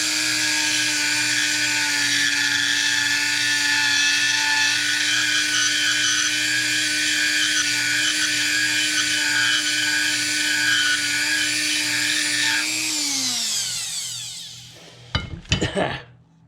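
A grinder or rotary tool works a Jaguar E-Type seat rail roller with a steady high-pitched whine for several seconds, then spins down, followed by a few metallic clinks, close and loud.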